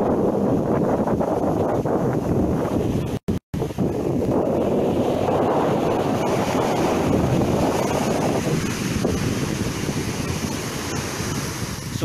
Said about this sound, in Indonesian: sesekali ombak datang, kondisi angin juga tidak terlalu kencang